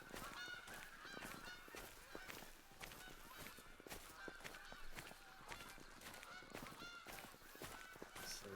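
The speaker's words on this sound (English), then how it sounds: "It's fucking crazy goose." Geese honk over and over in The Hunter Call of the Wild, a dense, steady chorus of calls from a flock in the Cuatro Colinas hunting reserve, loud and continuous with no talking.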